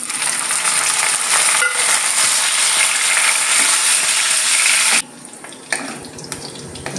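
Raisins fry and are stirred in a pan with cashews over lowered flame for Bengali basanti pulao, a steady loud sizzle for about five seconds, then dropping quieter with scattered scraping stir sounds.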